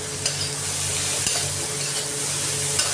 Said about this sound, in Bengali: আমি এতে বেগুনগুলো দিয়ে দেবো। এগুলো একসাথে ভাজা ভাজা হবে